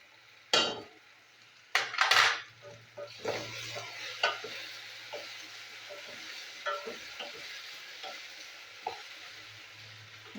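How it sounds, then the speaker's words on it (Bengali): Potatoes seasoned with salt and turmeric fry in a pan, a low steady sizzle broken by sharp scrapes and clinks of a spoon stirring against the metal, loudest early on and then settling into quieter intermittent stirring. "আলুটা আমি ভালো করে ভেজে নেবো একটু।"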